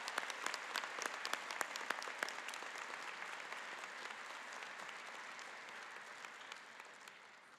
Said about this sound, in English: Please join me in giving a huge round of applause to our fine and dedicated faculty and staff.